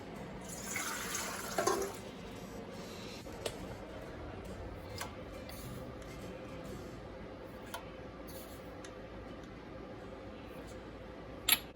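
Hot water runs steadily from a kitchen tap while bread is being made, a soft continuous hiss and splash with a few faint clicks and knocks over it.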